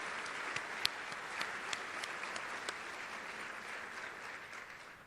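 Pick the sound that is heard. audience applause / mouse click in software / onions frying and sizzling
audience applause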